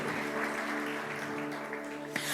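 Steady, faint wash of clapping from a church congregation thanking the models, even and sustained throughout, with a hum in the background.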